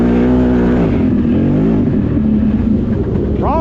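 A CFMOTO motorcycle fitted with an RNG clutch kit revs loudly and close, its engine note rising and falling, with a brief voice near the end.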